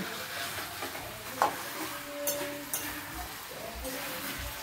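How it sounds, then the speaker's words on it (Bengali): Chicken rezala cooks in a pot at an outdoor village picnic, with soft sizzling and scraping stirs of a spoon coming in short bursts, fairly quiet and close. "চিকেন রেজালা রান্না চলছে"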